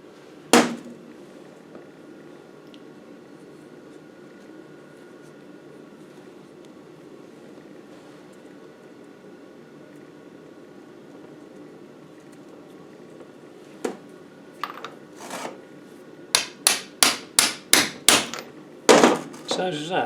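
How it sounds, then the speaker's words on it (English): Someone taps a steering box seal into an Adwest lightweight TDCi steering box with a socket. A single knock comes first, then after a quiet stretch a quickening run of sharp, close metallic taps. "I'll just find a socket to tap this in with."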